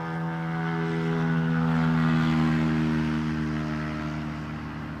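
A Jet2 Holidays passenger jet in summer livery passing at Newcastle Airport, a steady, droning engine roar that swells to a peak mid-clip and then slowly fades, heard from a distance without talk.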